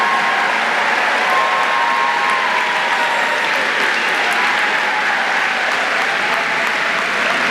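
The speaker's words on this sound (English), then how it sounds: "Parents, friends, let's give these guys another round of applause." A crowd of parents and friends at the 2019 Yale graduation ceremony gives the performers a loud, sustained round of applause, a thick, even wash of many hands clapping without a break.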